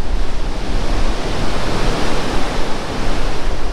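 Surf rolls onto the beach at Chałupy in July as a continuous, broad wash of breaking waves with gentle swells in loudness and no voices.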